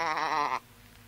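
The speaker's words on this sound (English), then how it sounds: "Someone is throwing a sheep out of an upper window." A sheep bleats once, loud and close, with a wavering, quavering tone lasting about half a second before cutting off to near silence; a comedy sound effect.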